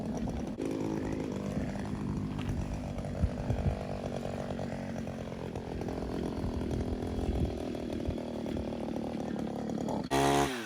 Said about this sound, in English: This pole saw is really top heavy.